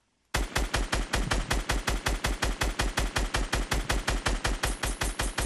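Rapid video-game gunfire: a sustained burst of evenly spaced shots, roughly five per second, loud and close, running unbroken to the end after a brief quiet start.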